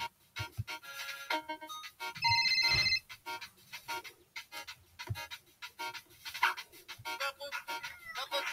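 A phone ringtone sounds briefly in the Don't Tax Me, Bro video game, a short tonal ring heard among game effects and background sounds.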